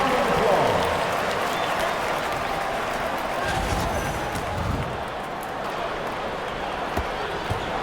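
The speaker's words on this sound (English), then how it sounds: "Give yourself a round of applause." Virtual arena crowd in an NBA 2K25 basketball game swells with applause and cheering, a dense steady roar with sneaker and ball sounds underneath, fading slightly later on; a commentator voice sits faintly in the mix.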